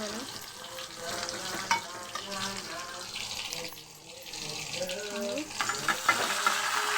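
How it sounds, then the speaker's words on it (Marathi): Garlic sautéing in hot oil in a home kitchen gives a steady, close sizzle with stirring scrapes, running continuously with a brief dip midway; faint speech-like sounds may sit underneath. "लसूण टाकलं थोडा चांगला परतून घ्यायचा लाल होईल"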